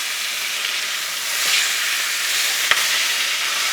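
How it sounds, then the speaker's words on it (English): A ribeye steak searing in butter over high heat, a steady bright sizzling hiss that swells slightly partway through, with a single sharp click. "So we're going to throw our butter in there. Put our meat down"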